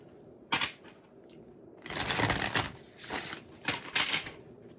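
Tarot cards are shuffled in several quick riffling bursts, close and crisp, separated by brief quiet gaps.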